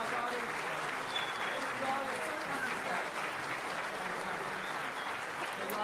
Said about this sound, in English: please join me, everybody, in giving a round of applause to all of the candidates for coming out here tonight